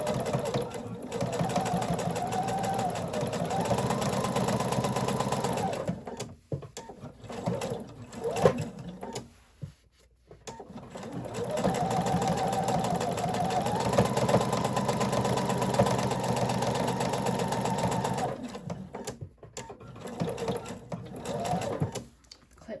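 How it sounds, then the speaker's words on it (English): Sewing machine stitching a half-inch seam around an up-cycled denim jeans pillow, running in two long steady bursts of several seconds each with brief pauses between them, fairly close and continuous. "So I'm going to start sewing right here with a fixed stitch or a back stitch and sew all the way around here"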